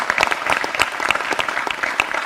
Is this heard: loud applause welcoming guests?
yes